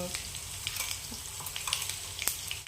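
Cumin, mustard seeds, curry leaves, chopped garlic and coriander fry in hot oil as a tempering, a quiet steady sizzle with small crackles and pops and no talking.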